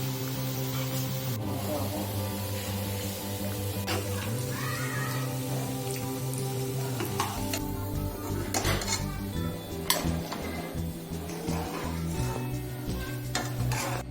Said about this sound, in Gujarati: આ જે મુઠિયા બનાવ્યા છે એના ગરમ મૂકેલા ઘીમાં આપણે તળી લેવાના છે